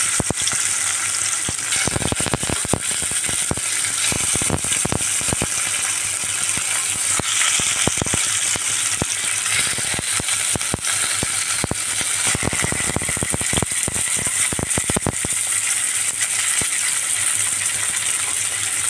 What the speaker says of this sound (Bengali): আমি এক পিস করে গরম তেলে মাছগুলা দিয়ে দিচ্ছি।